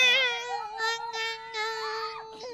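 A cat meows in a long, drawn-out, wavering yowl, loud and close, with the pitch bending upward near the end and no talk over it.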